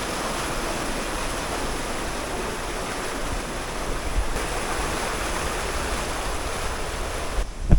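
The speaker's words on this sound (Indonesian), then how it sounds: "ini adalah salah satu pintu air dari Sadapan Sungai Banjaran" Water rushes steadily through a sluice gate at the Banjaran River intake of a Dutch colonial-era hydropower plant in Purwokerto. It makes a constant, close broadband roar with no voices.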